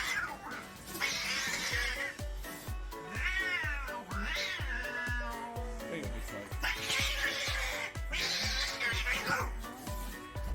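Several cats meow and yowl repeatedly over a steady thumping beat, their cries rising and falling in drawn-out, wavering calls.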